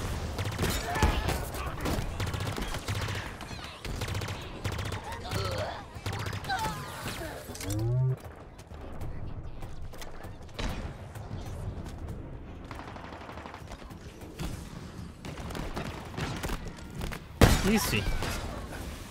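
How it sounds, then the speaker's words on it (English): Heavy firefight in the Halo Infinite campaign, with dense bursts of gunfire and repeated explosive blasts continuing throughout, including a loud boom near the end, with faint speech mixed in. "Oh my goodness, so many explosions."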